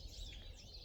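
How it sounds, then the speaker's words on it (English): Birds calling around a beaver pond in spring, likely grackles, starlings, chickadees or nuthatches, a faint high chirping over a quiet outdoor background in a brief moment with no talk. "A lot of bird action happening down here."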